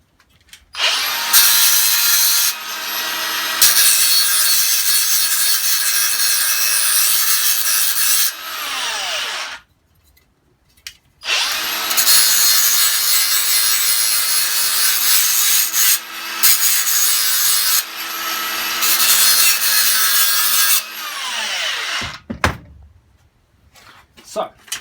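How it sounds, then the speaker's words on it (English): A power grinder works on the boot trim of a 1959 Chevrolet Impala in a garage, two long loud continuous grinding passes separated by a brief pause, ending with shorter bursts. "So let's give it another grind."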